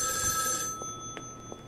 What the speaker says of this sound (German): Ja, ich gehe gleich am Telefon.